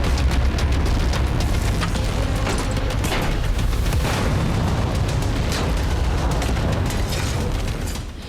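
A heavy, rumbling blast from a Hezbollah weapons depot being blown up, with a long roaring low-end tail, loud and continuous before fading at the end.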